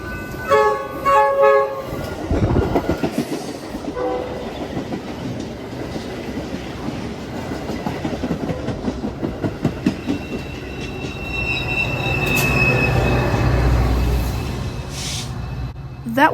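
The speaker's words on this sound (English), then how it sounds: "BNSF train number 2015 Chicago. Now arriving." BNSF train 2015 to Chicago pulls into a station, its horn sounding first, then rolling wheels clicking over rail joints and a rising rumble as it draws near, with station announcements over it.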